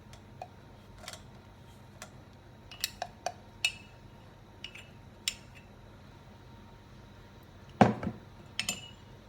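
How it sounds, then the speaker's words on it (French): A spoon stirs a chocolate mixture in a pot with a thermometer left inside, giving sparse, quiet metallic clinks and ticks at irregular intervals, with one louder scrape near the end. "À l'aide d'une cuillère, je tourne"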